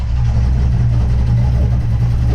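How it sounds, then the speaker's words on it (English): A 1983 GMC C10 squarebody pickup idles close by, a loud, steady low rumble that holds even throughout with no voices. "It idles fantastic when it's just sitting here idling like this"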